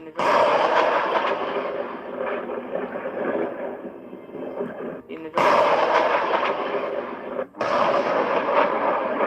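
Gunfire in a replayed interview recording about a kidnapping: a dense, loud, continuous roar of shots that breaks off twice briefly, with voices blended into the din.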